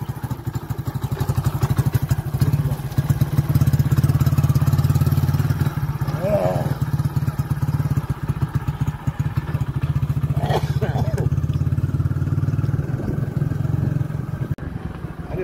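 A motorcycle engine runs close by in a steady, loud idle throb, with brief clatter and faint voices mixed in.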